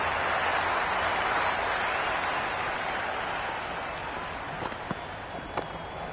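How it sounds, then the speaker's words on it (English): Cricket stadium crowd during a Jeddah Lions versus Multan Sultans match, with a loud, sustained roar of cheering and applause that slowly eases, a few sharp claps or knocks standing out near the end. "The crowd is electric right now."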